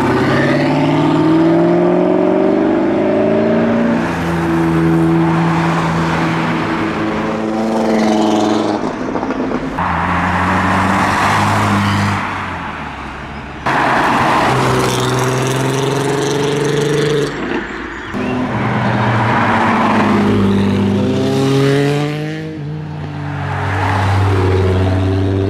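Cars, one of them a Jaguar, pulling away from Castle Combe circuit after a spring track day, loud engines rising through the gears one after another as they pass close by, with occasional gaps between vehicles.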